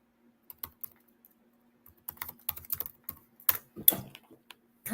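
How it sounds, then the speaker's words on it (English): Quiet computer keyboard typing in irregular bursts of clicks, sparse at first then quicker clusters of keystrokes, close and alone with a faint steady hum beneath. "Let me type it in here"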